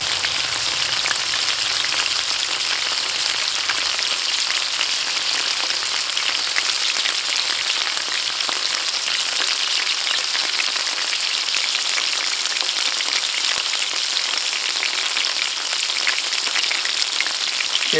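Steak searing in a cast iron pan, a loud, steady sizzle like heavy rain that holds without a break for the whole stretch, close and with no talk over it.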